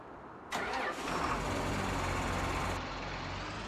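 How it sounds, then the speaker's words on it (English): A tractor engine in a farming video game cranks and catches, then settles into a steady low idle rumble, fairly close and unaccompanied by talk. "This one sounds like a proper tractor."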